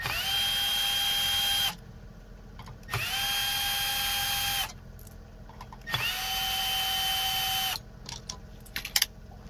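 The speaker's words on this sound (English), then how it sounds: "use your T20 Torx. And remove the screws" A power driver with a T20 Torx bit backing screws out of a plate on a 2018–2021 VW Atlas or Cross Sport, three separate whirring runs of a couple of seconds each, close and loud, with small clicks between them.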